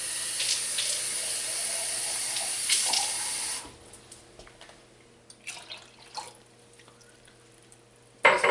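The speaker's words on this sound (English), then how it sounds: "so I'll add some water." Water from a tap pours into a pot for Texas red chili with a steady splashing stream, then stops, leaving faint drips and small clinks.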